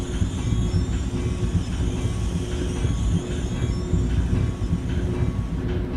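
Steady rumble of a multilevel train in Train Simulator 2019 pulling slowly into Manasquan station on the North Jersey Coast Line, with low-pitched wheel and motor noise and faint squeals and clicks throughout, fairly close and continuous.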